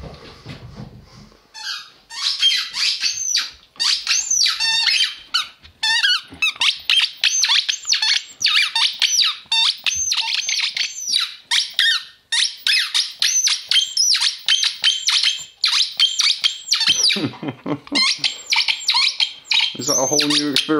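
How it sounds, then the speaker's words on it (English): A dog's squeaky ball toy squeaks loudly and almost nonstop in rapid high-pitched bursts as it is chewed, with short pauses and a few breaks near the end. "A squeaky ball."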